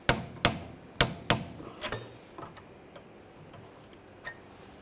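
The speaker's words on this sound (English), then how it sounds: "Now I'm going to torque this nut to 43 foot-pounds." A torque wrench tightens a nut on the rear upper control arm of a BMW 328i, with several sharp metallic clicks close up followed by fainter taps and handling noises.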